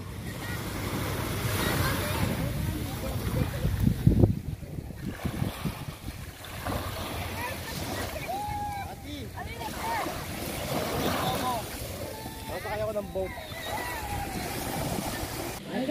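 Surf washing onto the beach at Sharp Island, Hong Kong, a steady broadband wash with wind buffeting the microphone, while people talk and call out over it throughout.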